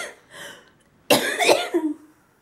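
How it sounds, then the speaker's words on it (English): A person coughs a few times close by: two soft coughs, a pause, then a harsher burst of coughing. "I'm coughing"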